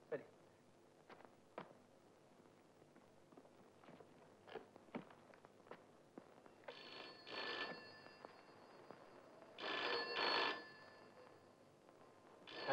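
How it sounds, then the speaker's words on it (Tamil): An old-fashioned telephone bell rings indoors in two separate bursts of ringing, moderately loud. Footsteps and scattered small knocks come before them in a quiet room. "டெலிஃபோன். Sir telephone."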